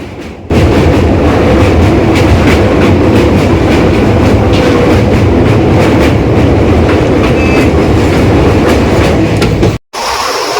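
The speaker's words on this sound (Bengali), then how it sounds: "নিচে এত বড় নদী আর আমাদের ট্রেন যাচ্ছে ওপর দিয়ে" Loud, close rumble of the Tista Torsa Express crossing a bridge over a river, with a rhythmic clatter of wheels that runs steadily, then cuts off briefly near the end.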